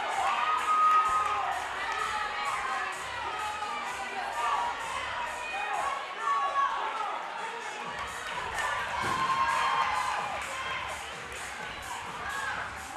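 At an athletic games event, a crowd cheers and shouts in a continuous roar, with children's voices and occasional thuds of dropped weights mixed in at a distance.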